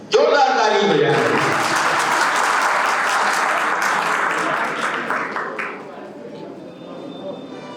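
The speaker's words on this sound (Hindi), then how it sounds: "जोरदार ताली बजाएं" Loud audience applause at a school coaching institute's annual function trophy presentation, a sustained burst of clapping that fades toward the end.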